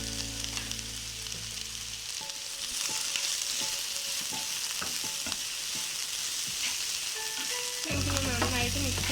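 Capsicum frying in a pan, a constant close hiss and crackle of oil with rhythmic spatula scrapes and taps running through the middle, steady and moderately loud.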